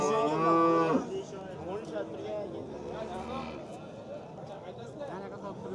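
A cow gives one loud, close moo at a busy cattle market in Fergana, Uzbekistan. Afterwards someone talks over low market bustle.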